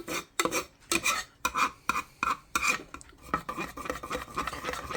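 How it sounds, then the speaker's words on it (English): Spoon stirring and scraping cooked Annie's organic shells pasta with cheese in a pot to break up clumps, a series of rhythmic close raspy scrapes about every half second, with no talk. "Let's try and pull it all again to one side so we can kind of stir this all together, break up the clumps"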